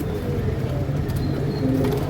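Flying pigeons of a high-class breed kept for sale coo in a loft, a steady low murmuring coo running throughout amid mild background noise.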